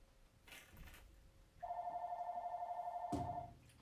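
A telephone rings indoors in a home workspace, a steady electronic warble with a bright harmonic tone holding for about two seconds, fairly clear and close, with faint background rustle before it.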